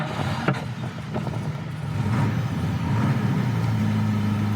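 A cold Jaguar MK2 engine fires up from a push-button start and settles into a loud, steady idle, with a low rumble that swells slightly after the first couple of seconds.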